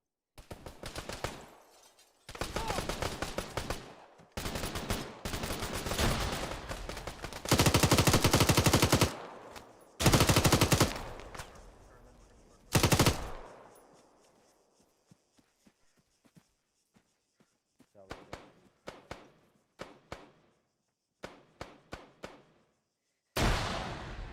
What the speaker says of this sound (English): We're taking fire from a sharpshooter, but we're doing all right.